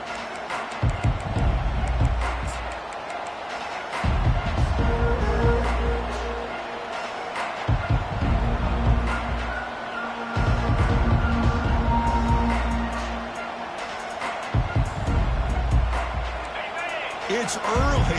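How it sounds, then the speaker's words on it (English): Crowd at a college football stadium in a video game, a loud roar rising and falling in repeated surges, with thumping beats and commentator speech over it. "It's early, but this crowd is fired up. Listen to this noise here."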